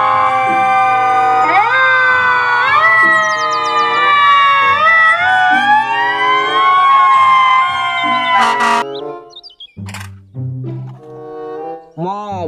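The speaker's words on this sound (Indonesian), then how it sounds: "Mobil truk pemadam kebakaran." A toy fire truck's electronic siren sweeps up and down repeatedly, loud and close, for about eight seconds. It then breaks into a few short chirping bursts.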